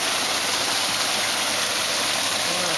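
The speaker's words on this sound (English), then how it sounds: "there's some water down here, I hear water" Water stream flowing beside a scenic pond, a steady close rushing hiss that stays constant throughout with no voices.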